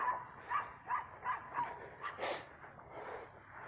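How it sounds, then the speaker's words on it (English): Several dogs barking in a run of repeated barks at a moderate distance, heard from a woodland trail, with a rougher louder bark near the middle and no talking. "Oh, there's freaking dogs in there."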